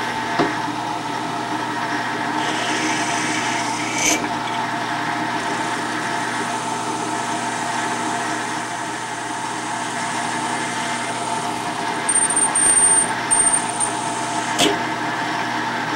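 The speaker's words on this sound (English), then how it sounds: "Now I'm going to drill through with a 5/32 drill." A machine drill runs steadily with a 5/32 bit through the valve chest of a model 1880s steam engine in a workshop, a continuous motor whine with brief clicks and a short change in pitch near the end.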